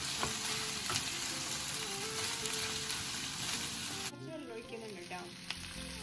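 Chicken and roasted chillies fry in a pan with a loud, continuous hiss and sizzle. The tone shifts partway through as the food is moved or stirred, and no one speaks over it.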